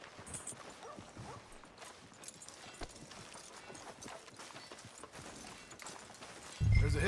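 Horse hooves clip-clop in a steady, moderately quiet rhythm through a Red Dead Redemption 2 game scene, with a louder thump near the end.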